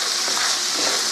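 Pork and jalapeno sizzle in a hot pan, a brief, steady, loud hiss heard up close without any voices.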